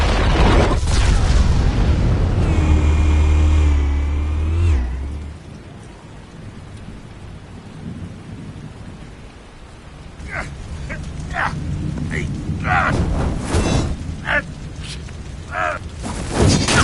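Explosives detonate in a deep, heavy blast that rolls on for several seconds, then fade to a softer crackling rumble broken by sharp scattered bursts.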